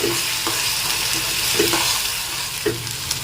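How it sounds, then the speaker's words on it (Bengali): Onion paste masala frying in a pan for egg curry, a loud, even sizzle with a few periodic spoon scrapes as the paste is stirred, close by with no voices. "এখানে একটা বড় সাইজের পেঁয়াজ পেস্ট করে রেখেছি মশলাটাকে ভালো করে কষিয়ে নেব"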